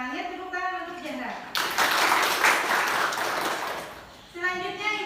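A classroom of students bursts into applause for about three seconds, close and fairly loud, with a teacher's voice speaking just before and after.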